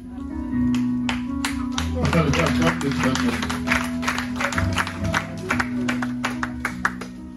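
A church congregation applauds and cheers for God, a dense wash of many hands clapping with voices and organ or keyboard tones sustained underneath.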